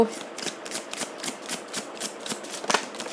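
Tarot cards being shuffled close by, a rapid run of crisp riffling flicks at an even rhythm throughout.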